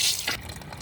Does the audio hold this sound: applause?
no